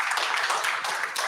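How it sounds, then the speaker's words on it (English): Meetup audience claps after a talk, a short dense burst of applause filling the moment at an even level. "Can we have one more round of applause, because that was a fantastic talk."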